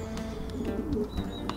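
Racing pigeons coo softly in a loft, a low murmuring burble with a few faint chirps, quiet and close, no voices present.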